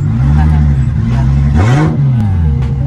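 A BMW E90 fitted with a 2JZ-GTE engine revs close by, its deep engine note rising and falling in a quick blip, mixed with people talking over it.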